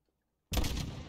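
A single sharp rifle shot in Call of Duty: Modern Warfare (2019) cracks out after a brief silence, loud and booming with a short reverberant tail.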